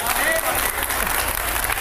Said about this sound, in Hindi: इस बात पे तालियां होंगी क्या?